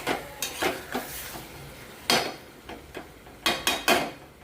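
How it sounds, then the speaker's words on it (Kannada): Chopped tomatoes and curry leaves frying in oil in a pan, with sizzling under repeated scraping stirs and clinks of a spoon against the pan in bursts, close and fairly loud. "ಟಮಾಟಿನ ಈ ಥರ ದಮ್ ದಮ್ಮನ್ನು ಕಟ್ ಮಾಡಿ ಹಾಕ್ಕೊಂಡು ಎಣ್ಣೆ ಒಳಗೆ ಸ್ವಲ್ಪ ಫ್ರೈ ಮಾಡಮಂತ್ರಿ"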